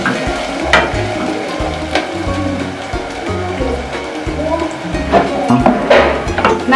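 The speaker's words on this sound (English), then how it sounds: "Continue stirring so that the onions can evenly cook." Onions frying in a pan are stirred steadily until evenly browned. A loud, close sizzle is broken by regular scraping strokes roughly every second, with a low rumbling hum underneath.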